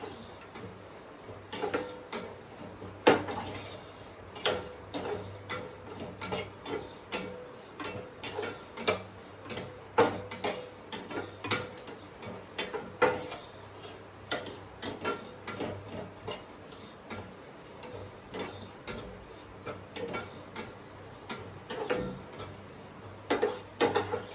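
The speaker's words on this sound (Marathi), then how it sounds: "हा छान मुगाची डाळ छान पैकी अशी भाजून घ्यायची" Moong dal dry-roasting in a pan for sheera, stirred with a spoon that gives a steady run of close, light scraping ticks and clinks against the metal, with no talking.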